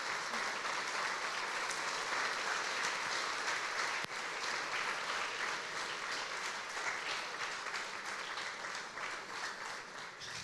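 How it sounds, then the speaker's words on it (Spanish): A church congregation applauding, a sustained wash of clapping from many hands that stays fairly even and fades slightly toward the end. "quiero que le demos un aplauso a toda la iglesia"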